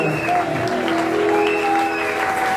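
A congregation claps during a church service, a steady wash of many hands with some crowd murmur and singing tones underneath, moderately loud and continuous.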